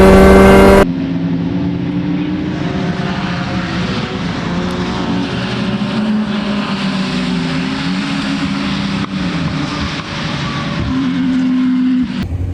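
A Mini Challenge Clubsport race car at Donington roars loudly and steadily from close up as its engine accelerates, with a dense, sustained drone and shifting pitch throughout, no voices.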